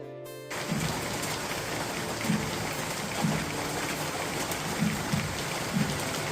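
Steady rain falls in a dense, even hiss, with soft dull thuds of drops landing every second or so.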